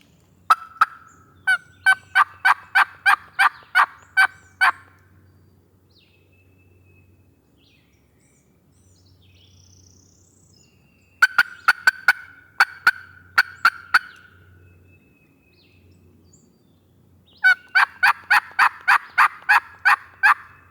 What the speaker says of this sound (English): If I get one more gobble from them